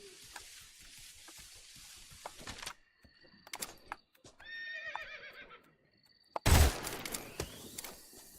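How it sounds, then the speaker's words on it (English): A horse whinnies once in the middle of a Metal Gear Solid game, a clear rising and falling neigh, framed by clattering game sounds and a sudden loud burst near the end. "You just heard a horse?"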